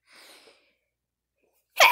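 A single sharp, loud human sneeze bursts out close to the microphone after a soft breathy inhale and a short pause.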